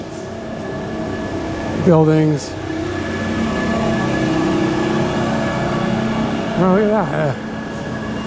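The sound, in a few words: trolley train passing on street in Tallinn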